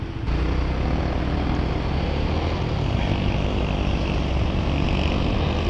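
Engine of a 2007 Suzuki Raider J 110 semi-automatic motorcycle, an old bike, idles and runs with a steady, loud, low drone close by that holds evenly for several seconds with no talk.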